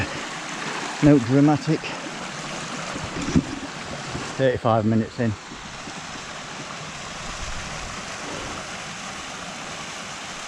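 Small moorland brook tumbling over little falls into plunge pools on Blackden Brook, Edale Moor, a steady broadband rush of water running throughout, with someone talking briefly over it and some wind buffeting the microphone.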